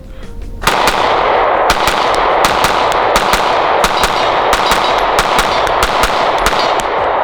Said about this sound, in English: So anybody who's wondering about the whole comp or porta barrel, the gun will get louder.